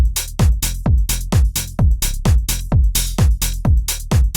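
A punchy synth bass plays a repeating rhythmic pattern, its filter cutoff shaped by an envelope set around 25%, each note opening bright then quickly closing down, giving a bouncy plucked feel, in a house-style bassline.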